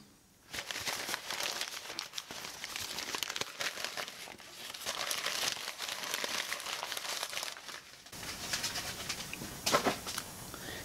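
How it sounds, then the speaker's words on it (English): Paper is squeezed and crumpled by hand into a wad for a papier-mache tropical fish, with continuous close crinkling and rustling in uneven bursts for several seconds. "Let's make another little paper wad there and onto the other side."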